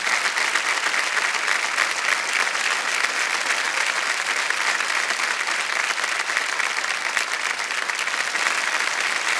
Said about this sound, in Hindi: तालियां बजते हैं जोरदार